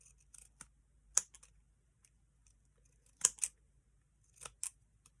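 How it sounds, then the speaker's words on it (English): Decorative scissors snip through paper during a paper-clip craft project, giving a handful of crisp, close cuts spaced irregularly with quiet pauses between them; no one speaks. "You don't have to use the decorative scissors."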